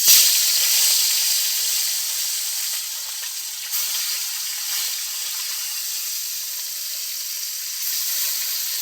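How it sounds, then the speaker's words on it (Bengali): Pieces of rohu fish fry in hot oil, giving a steady bright sizzle and hiss that holds evenly throughout at close range, with no voices. "মাছগুলো ভাজা হবে"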